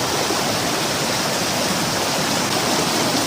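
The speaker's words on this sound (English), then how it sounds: "There's the waterfall." Waterfall at Devloli dam near Panvel roars with a steady, dense broadband rush of falling water, close and loud, unbroken throughout with no talking.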